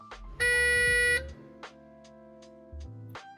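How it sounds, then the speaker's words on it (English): CAT M-Series motor grader console sounding its start-up alarm during the key-on self-test, a loud steady electronic tone held for just under a second, followed by fainter clicks and low rumbles in the cab. "with one of them being an audible alarm."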